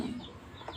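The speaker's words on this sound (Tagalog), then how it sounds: "Ang ingay mo naman tandang" A rooster calls once on a rainy, muddy farm. The sound is short and faint, more of a brief cluck than a full crow, and it stands alone with no voices.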